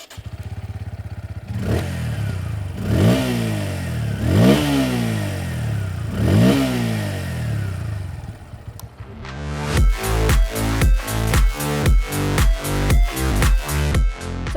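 Exhaust of a 2023 Bajaj Pulsar P150 motorcycle with a 150cc engine: three separate revs rise and fall, then a quick string of sharp, rhythmic blips, close and loud, with no talking.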